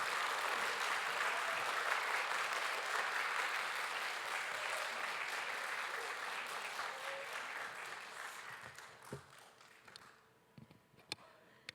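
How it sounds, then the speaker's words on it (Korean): Sustained applause from a congregation welcoming a pastor to the stage at a Friday worship service in a church; dense clapping fills the room, then gradually thins and fades to a few scattered claps by the end. "우리 목사님 나오실 때에 박수로 이렇게 격려해드리면"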